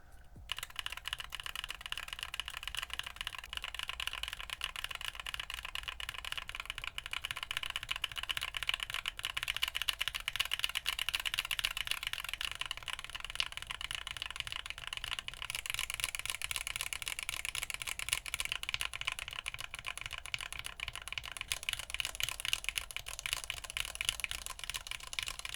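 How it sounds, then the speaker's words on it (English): Typing on a keyboard fitted with Prevail Epsilon linear switches, lubed with Krytox 205G0 and filmed with S-Keys films, a dense, continuous rapid clatter of keystrokes that carries on steadily throughout. "Let's listen to the switches after lubing with Krytox 205G0 and filming with S-Keys films, along with some other linear switches for comparison."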